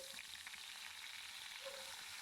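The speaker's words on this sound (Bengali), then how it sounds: "ইলিশ মাছের মুড়োগুলো দিয়ে একটু ভেজে নেব।" Hilsa fish heads fry in hot oil, giving a faint, steady crackling hiss that holds evenly throughout without any talking.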